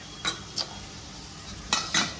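Boiled dal is added to hot tempering and stirred in a pot with a metal spoon in a home kitchen, a few sharp metallic scrapes and clinks over a faint steady sizzle.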